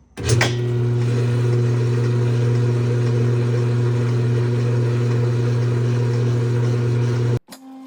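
A Kenmore/Whirlpool washing machine spinning at full speed, a steady loud hum with a constant droning tone that holds evenly for several seconds, then cuts off abruptly near the end.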